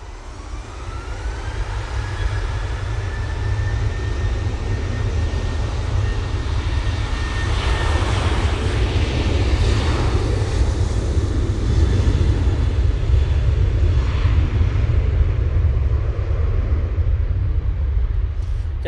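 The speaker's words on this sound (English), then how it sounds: "Jet2 737 now on the roll." A Jet2 Boeing 737 rolls for takeoff at Manchester Airport, its engines a broad, sustained roar that holds loud and steady throughout, with a rising whine early on.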